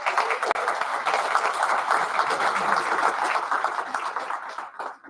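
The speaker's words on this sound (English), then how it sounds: "Big round of applause for Lynn." Rotary Club members applaud a guest at their meeting, a full round of clapping from the room that holds steady and then thins and fades toward the end.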